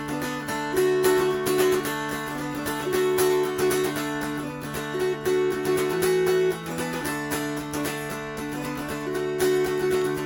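Continuous strummed mountain dulcimer with a bright, droning twang, played steadily without breaks, dense and even throughout, no voices.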